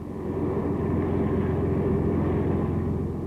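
World War II Japanese propeller aircraft engines drone steadily with a low, throbbing hum, continuous and fairly loud, with no voices.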